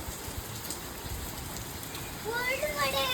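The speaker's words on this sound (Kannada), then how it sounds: "ಫುಲ್ಲು ಮಳೆ" Steady, dense rain hisses throughout, a broadband wash with a few faint background sounds mixed in, growing slightly louder near the end.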